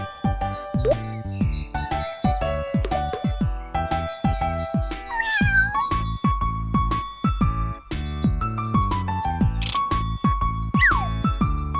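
A cartoon kitten meows in short rising and falling cries over bright, busy music with chimes and jingles, the calls fairly close and clear against the score.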